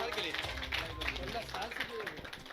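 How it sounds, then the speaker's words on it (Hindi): Applause at a coaching campus celebration, with rapid clapping from a gathered group under loud voices and cheering that carry on through the burst. "जोरदार तालियां सर के लिए।"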